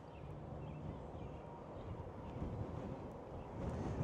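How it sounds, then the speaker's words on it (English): Breezy wind at an RV park in Georgetown, Kentucky: a steady, low rushing buffet against the microphone, continuous and fairly faint, with no other distinct sounds. "Nice and breezy up here."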